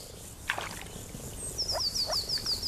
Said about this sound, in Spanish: Las ranas ya vivían en la charca cuando la torre estaba ocupada.